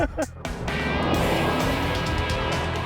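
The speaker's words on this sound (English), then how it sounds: "An empty car doing donuts and a police car with its lights flashing." A driverless car spins in donuts, its engine roaring steadily after a brief opening voice, a continuous close rush of motor and tire noise.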